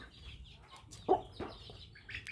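Chickens of a Thai game-fowl breeding line give a few short, soft clucks close to the microphone in a quiet yard, with faint chirps between them.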